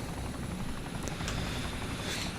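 Video game helicopter rotor drone with a steady low thumping chop, loud and continuous, no voices.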